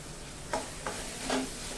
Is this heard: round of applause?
no